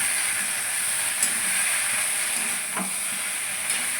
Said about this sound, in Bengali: এবার একটু কষাবো, কষিয়ে নিই।